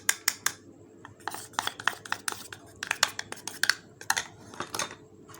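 A spoon clinks and scrapes against a bowl while cake batter with oil and cornflour is stirred, making quick irregular metallic taps in bursts, close up and fairly crisp.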